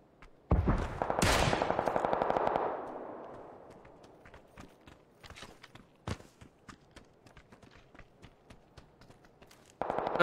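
Video game gunfire during a live session: a loud, rapid burst of automatic fire up front, then quieter scattered single shots and footstep-like clicks, ending with another short burst.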